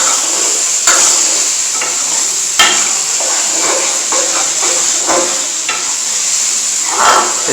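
Pumpkin halwa with almonds fries in a pan with a steady loud sizzle and hiss, broken by a few scrapes and knocks of a spoon stirring against the metal.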